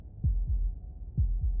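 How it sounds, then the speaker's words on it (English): A heartbeat effect from the video game Slay the Princess thumps low and clear in two double beats, lub-dub pairs spaced about a second apart, alone in near silence. "That was the sound of a heartbeat, followed by another."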